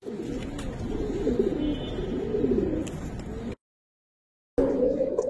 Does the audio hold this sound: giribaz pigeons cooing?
yes